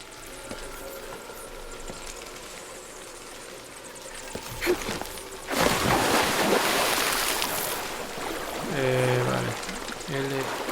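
A character plunges into water in Shadow of the Tomb Raider, with a loud rushing splash midway after quieter ambient game sound and a few clanks, followed by watery churning and musical tones near the end.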